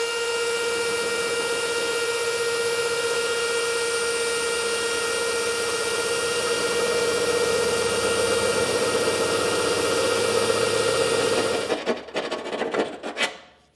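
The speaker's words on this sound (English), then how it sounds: "we'll switch back to our 9/16 bit and we can drill through there" A power drill with a 9/16 bit bores through the cross member of a 2024 Ford F-250 Super Duty truck. It gives a loud, steady grinding whine for about twelve seconds, then sputters and stops with a few rattles.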